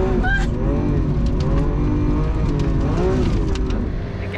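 A car spins donuts on a dusty surface, its engine revving loudly and continuously with rising and falling pitch and occasional tyre noise, close by and steady throughout.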